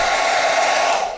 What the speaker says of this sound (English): it's able to run that hairdryer no problem